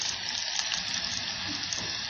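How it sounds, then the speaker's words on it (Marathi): Onion sizzles steadily in hot oil inside a pressure cooker, a continuous close hiss without a break, with faint stirring underneath. "त्यासाठी आपण कुकर ठेवलं होतं, तेल टाकून घेतलं आणि त्यात कांदा,"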